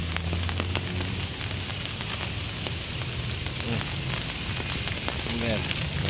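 Heavy rain falls in Baguio City, a constant broad hiss of drops pattering on surfaces close by, with faint scattered knocks and tones from the street beneath the downpour.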